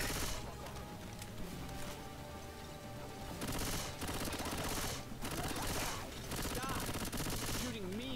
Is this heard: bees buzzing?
no